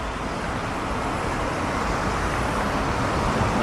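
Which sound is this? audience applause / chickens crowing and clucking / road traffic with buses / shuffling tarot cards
road traffic with buses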